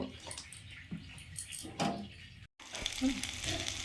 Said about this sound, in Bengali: এগুলো এমনি মচমচ করে ভাজতে হবে